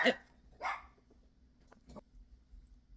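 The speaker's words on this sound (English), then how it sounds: "Apologies, barking dog." A dog barks twice in quick succession, then gives a couple of fainter yips against a quiet room with a low hum.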